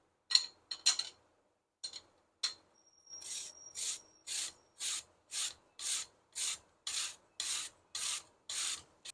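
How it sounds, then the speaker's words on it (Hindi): A medium-sized potato is finely grated by hand: a few scattered scrapes, then a run of about a dozen evenly spaced rasping strokes, close and crisp with silent gaps between them. "एक दरमियाने साइज का आलू मैंने लिया है,"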